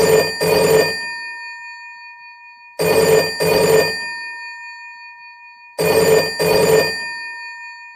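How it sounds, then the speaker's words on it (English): Classic telephone bell sound effect with a double ring repeated three times. The bright metallic trills are loud and clean and fade out between bursts, with no other sounds. "So I'm going to insert phone ringing right here."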